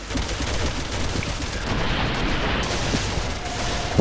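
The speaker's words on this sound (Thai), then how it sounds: "ใช้ปืนกลดีกว่า" Machine gun fire in the video game Resident Evil 6 makes a dense, continuous roar of rapid automatic shots and booming impacts, loud and unbroken for several seconds.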